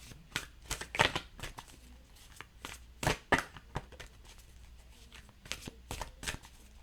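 Tarot cards are shuffled by hand in a quiet room, a series of crisp riffling and slapping bursts in an uneven rhythm, close and fairly soft.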